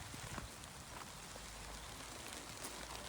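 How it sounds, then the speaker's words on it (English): Rain falls on an allotment where rainwater storage tanks stand, a soft, even patter that holds steady and fairly faint throughout. "It's actually raining now,"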